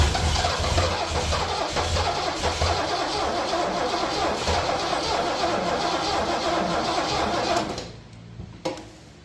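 A high-compression 460 V8 fires up and runs rough and loud for several seconds with a steady churning roar, then cuts out abruptly, leaving a faint pop in near silence.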